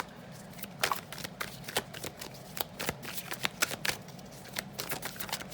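Tarot cards are shuffled by hand, a run of quick papery riffles and snaps in an uneven rhythm, close and fairly quiet with no talking.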